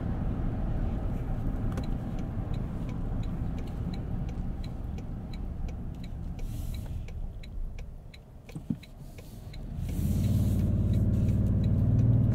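A 2022 Toyota Tundra Capstone with the iForce MAX hybrid twin-turbo V6 produces a steady, gruff engine drone heard from inside the cab, with a ticking indicator and a rise in engine noise near the end.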